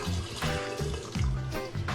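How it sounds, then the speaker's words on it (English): Good vodka is poured straight into a large pitcher, making a steady liquid trickle and splash for about two seconds, with no one talking over it. "2 cups of vodka, good vodka, and a big pitcher. Just pour it right in."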